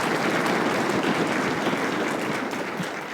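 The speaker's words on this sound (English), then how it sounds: "We can give him a round of applause." An audience at a middle school honors music festival applauds the co-director, a dense and loud wash of clapping that holds steady and begins to fade near the end.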